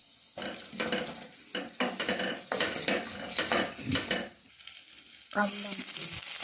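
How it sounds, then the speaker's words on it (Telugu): Urad dal, chana dal, coriander seeds and cumin frying in about three tablespoons of oil while a spoon stirs and clatters against the pan in uneven bursts, ending in a sharper burst of loud sizzling. "త్రీ టేబుల్ స్పూన్ ఆయిల్, మినపప్పు, ధనియాలు, శనగపప్పు, జీలకర్ర మంచి అరోమా వచ్చేదాకా వేయించుకోవాలి."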